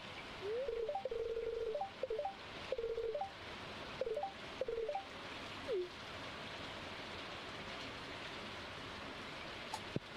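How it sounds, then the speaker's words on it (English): A phone rings with a sequence of short, chirpy electronic tone bursts repeating over several seconds, then falls silent, leaving a soft hiss like rain. "My phone ringing?"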